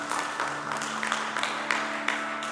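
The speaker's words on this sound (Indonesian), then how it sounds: "Tepuk tangan untuk Tuhan." Church congregation at a Sunday service applauding together, a soft sustained patter of clapping with scattered louder claps, heard at a distance over a low background hum.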